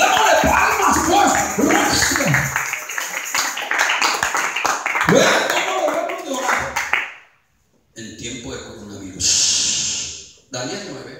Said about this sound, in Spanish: démosle palmas, pues.